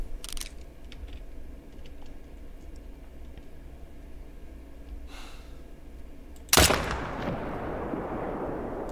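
A single loud rifle shot rings out in a hunting video game on Yukon Valley, a sharp crack with a long rolling echo after a quiet stretch of ambient wilderness.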